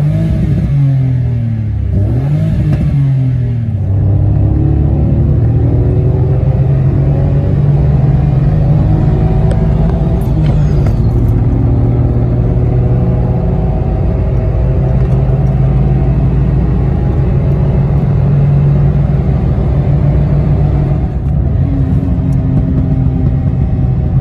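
A DDG-tuned Citroen C1 pulling hard through second and third gear, its small engine droning loud and close as revs climb, dip at the shift, then rise again over steady road rumble.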